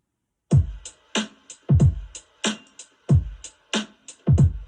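A drum beat with a soft layer of brushes mixed in for texture, for the smooth blues track, playing as steady punchy kicks with snare hits and light swishy brush wash, alone with no talking.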